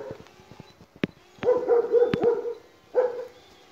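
Dogs barking at a drone in hilly country, a few sharp barks and yips in quick bursts, moderately close, with a brief whimpering tone between them.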